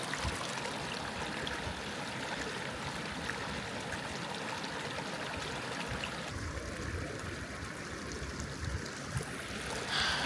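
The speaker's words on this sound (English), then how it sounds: "I'm not too far from this waterfall" A waterfall on the Isle of Arran in Scotland roars in a dense, continuous rush of falling water, loud and near, steady throughout with no voices over it.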